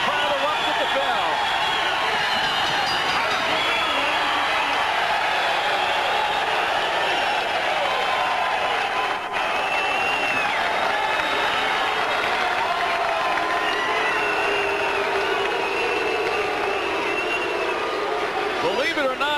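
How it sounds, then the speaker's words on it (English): A boxing arena crowd roars loudly and continuously at the bell, a dense wall of cheering and shouting with no break. "Listen to the crowd erupt at the bell."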